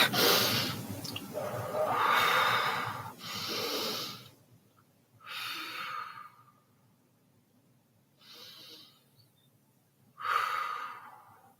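Slow, deep breaths drawn in and let out in a calm indoor setting, several long airy inhales and exhales separated by quiet pauses, close and soft.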